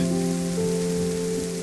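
Heavy rain pours down across a residential neighborhood as a steady, dense wash of hiss with no pauses, while a low sustained tonal hum runs underneath.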